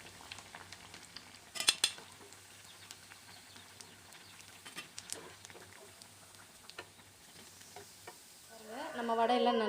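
Banana flower vada batter frying in oil, a faint, steady sizzle with a few scattered clinks and scrapes, swelling into louder bubbling over the last second.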